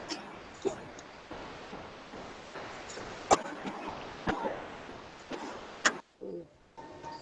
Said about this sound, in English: There are many of you who are coughing.